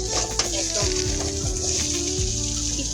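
Soya chunks frying in oil in a pan give a steady, close sizzle that runs the whole time, with a few stirring scrapes and a faint voice in the background.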